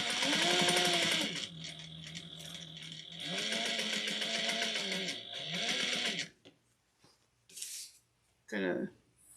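Domestic sewing machine running bursts of stitching along a half-inch seam allowance with backstitching, loud buzzing runs broken by short pauses, while a person talks over and between them.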